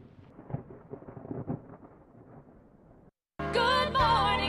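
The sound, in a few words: thunderstorm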